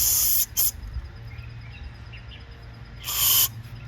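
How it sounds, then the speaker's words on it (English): Two sharp bursts of aerosol carburetor cleaner hiss close by into an Ariens snowblower carburetor's holes, a short one and then a longer one, with a quiet pause in between. "we're just going to blow that stuff out with the spray."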